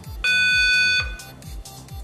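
A Quick Touch light-up memory game sounds a sustained high electronic beep for under a second, followed by a rapid series of low rhythmic thumps.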